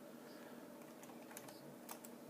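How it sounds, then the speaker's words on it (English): Soft, faint clicks of typing on a computer keyboard, a few scattered keystrokes over a steady low room hum, with no talk. "And here you can type in"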